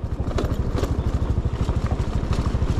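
A Beta motorcycle ridden on the road, its engine producing a rapid, regular low thumping pulse, close and steady throughout with slight wind and road noise on top.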